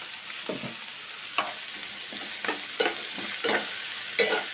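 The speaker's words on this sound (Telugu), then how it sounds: "ఎప్పుడులాగే కొంచెం ఉప్పు వేద్దాం," Onions frying with salt in a pan, a steady close sizzle broken by several sharp scrapes and taps of a spoon stirring against the pan.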